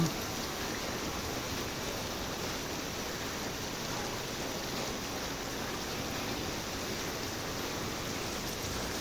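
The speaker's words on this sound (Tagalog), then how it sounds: "Malakas ang ulan guys" A dense, constant roar of heavy rain, broadband and unbroken throughout, with no voices and no pauses.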